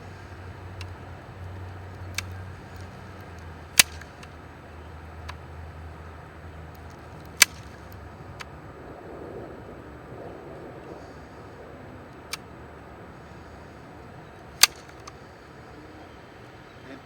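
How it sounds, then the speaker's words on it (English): A staple gun fires into flags at an outdoor cemetery on a windy day, giving about half a dozen sharp, isolated snaps at irregular intervals over a low, steady rumble of wind. "I usually take this staple gun"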